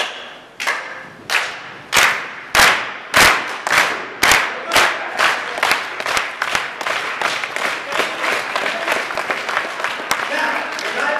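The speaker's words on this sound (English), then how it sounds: "I want you to either clap your hands or stomp your feet like this" A convention panel audience claps hands and stomps feet in a steady rhythmic beat, dozens of sharp loud hits that start spaced out and quicken, with voices mixed in.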